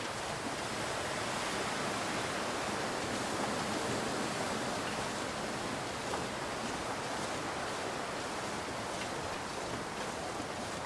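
Steady rushing waterfall in the snowy wilderness game The Long Dark, a constant broad wash of falling water holding an even level throughout with no voices.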